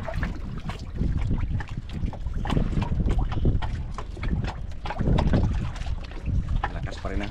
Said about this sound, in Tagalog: Lakas pa rin ang hangin mga idol.